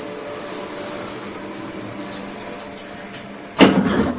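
An elevator motor in a machine-room-less Thames Valley lift runs with a steady hum and a high, constant electrical whine, then a sudden clunk as it stops, leaving a softer rumble.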